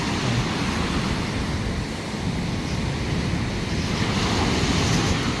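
Ocean surf breaks steadily at the Wangpi stream mouth in Korea, a loud continuous wash of waves mixed with wind buffeting the microphone, with no voices.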